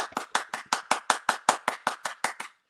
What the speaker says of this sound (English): Can we get a hand clap, everybody?